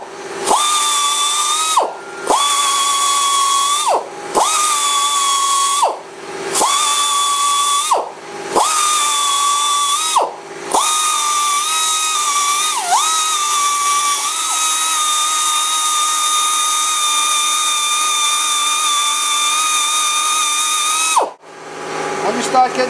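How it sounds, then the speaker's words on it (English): Pneumatic belt sander running in several short bursts with a high whine that rises and drops between them, then one long continuous run before it cuts off, loud and close with no talk. "This tool here is a pneumatic belt sander."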